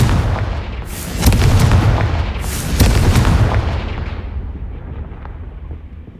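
Confringo blasting spell explosions in the Hogwarts Legacy video game: two loud, booming blasts about a second apart, each trailing into a long rumbling decay, with no voices.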